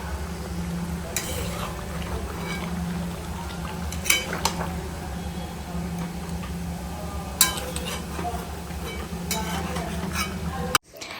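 Chicken being sautéed and stirred in a pan, with utensil scrapes and clinks against the pan recurring over a steady low frying sizzle, all close and fairly loud.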